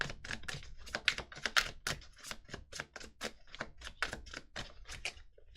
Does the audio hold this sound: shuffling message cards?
yes